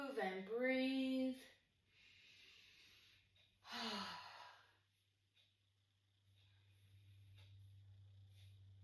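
Deep breaths during a glute stretching workout: a short voiced sound opens, followed by two airy inhale-exhale breaths spaced a couple of seconds apart, over a faint low hum.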